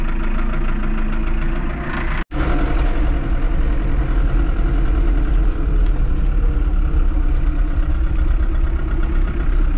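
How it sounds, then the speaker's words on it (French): A cold car engine idles steadily and loudly at close range, with a single sharp dropout about two seconds in before the low, even drone resumes. "On va y aller piano au départ, hein, le moteur est froid."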